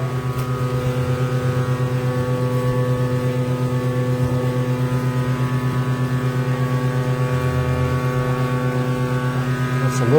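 A 5-axis CNC machine drones steadily while machining a rifle bolt, a loud continuous hum with strong tonal harmonics and a slight pulsing rhythm, nearby and otherwise alone.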